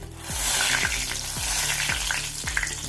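Chilli bajji, battered green chillies, deep-frying in hot oil. A steady close sizzle runs throughout with a few bubbling pops and several soft low knocks, and no one speaks.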